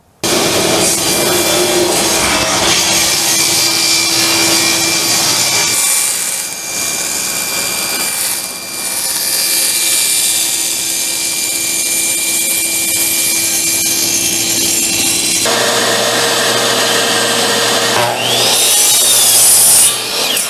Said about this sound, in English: What you saw me doing there at the saw was cutting the cleat here.